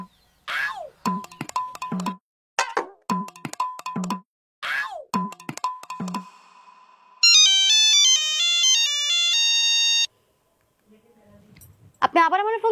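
A phone ringtone plays a bright melodic electronic tune of stepped tones, loud and close, following several sharp clinks and taps, with brief voices heard at the end.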